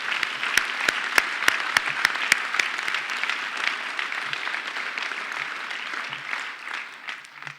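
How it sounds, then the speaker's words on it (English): An audience at Denver's State of the City Address breaks into loud, sustained applause, with sharp individual claps standing out at first, then settling into a dense, steady patter that fades slightly near the end. "Now you can applaud."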